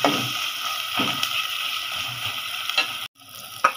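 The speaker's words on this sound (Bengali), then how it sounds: "এই তো পেঁয়াজগুলো নরম করে ফেলছে আম্মু" Sliced onions frying in oil for a chicken curry, giving a steady bright sizzle with a few soft stirring scrapes and a short break near the end.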